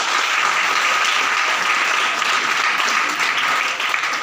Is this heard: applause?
yes